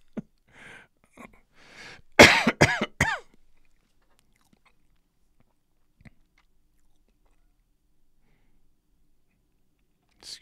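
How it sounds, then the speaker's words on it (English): A man coughs several times in a loud, close cluster after some faint breathy throat noises, then quiet with a couple of small clicks and a brief final sound. "Excuse me, by the way, for the coughs."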